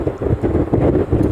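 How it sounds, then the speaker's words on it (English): Gusty wind buffets an outdoor microphone at a Honolulu plane-spotting spot. It makes a loud, continuous low rumble that pulses in uneven gusts, with no other sounds heard. "I'm a little nervous about how windy it is."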